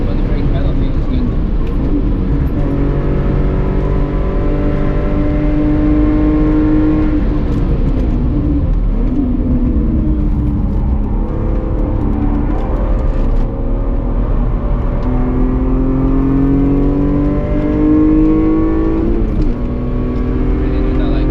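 A budget track car's engine, heard from inside while driving on track, revs up and down through gears in repeated rising sweeps, loud and continuous throughout.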